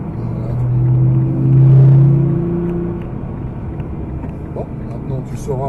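A Nissan GT-R engine revs and rumbles up in pitch as the car accelerates, loud and close, then fades into a low drone with faint voices.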